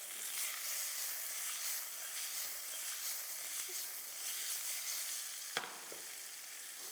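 Asparagus sizzles steadily in hot garlic-flavored oil in a pan as it reheats, a close, even frying hiss with a brief clatter of stirring near the end.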